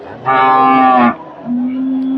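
A Friesian dairy cow at a weekly cattle market in Bogura lows loudly and close by, one long moo followed by a lower, softer drawn-out call.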